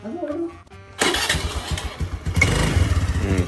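A small scooter engine sputters and catches, then runs with a steady putter close by, following a short stretch of voices.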